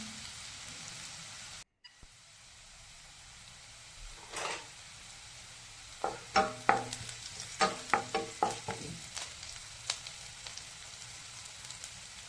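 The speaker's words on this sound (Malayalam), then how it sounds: "അതിലേക്ക് അടുത്തായി ഉള്ളി അരിഞ്ഞത് ഇട്ട് കൊടുക്കാം" Chopped onion dropped into hot oil in a pan for egg bhurji, a soft sizzle followed by a run of sharp scraping and stirring clicks from a spatula, close and fairly quiet, with no talking.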